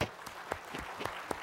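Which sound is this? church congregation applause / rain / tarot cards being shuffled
church congregation applause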